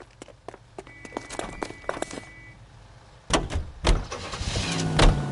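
A car in an LA Noire police chase driving off in a video game, with door thumps and footsteps first, then a louder burst of engine noise and movement in the second half.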